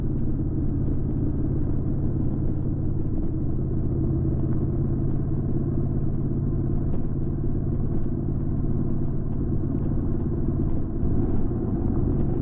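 A motorcycle engine with a DCT gearbox, ridden in sixth gear on a road route, gives a steady low rumble throughout, with no speech over it.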